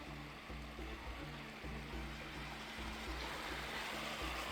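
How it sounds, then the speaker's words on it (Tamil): Water flows steadily down the thermal travertine pools of Pamukkale in Turkey, a constant, even rushing and trickling wash heard alone, with no talking. "அங்கே நிறைய ஃப்ளோ ஆகுதுங்க. மேலேருந்து அப்படியே வருது."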